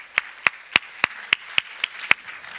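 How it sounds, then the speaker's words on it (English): Sparse claps at a conference on geopolitics, about eight sharp, evenly spaced hand claps in a steady slow rhythm, fairly close and distinct rather than a dense crowd wash. "So let's give them a round of applause."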